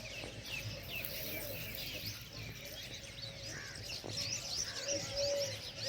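Birds gathered on a rooftop where grain is scattered for sparrows, giving repeated cooing and scattered chirps over steady outdoor ambience, moderately close and continuous throughout.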